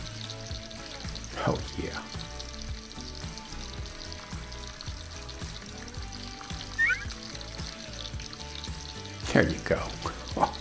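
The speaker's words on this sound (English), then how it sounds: "I am going to join together that bacon with those onions." Bacon and onions frying together on a Halo Elite griddle, a steady close sizzle with occasional stirring and scraping, while someone speaks briefly over it.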